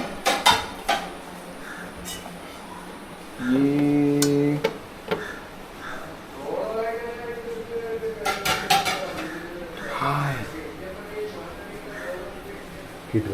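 A sealed dum pot of biryani being opened, with a few metallic clanks, a longer rattling scrape of the lid and pot, and light clinks, under intermittent talking nearby.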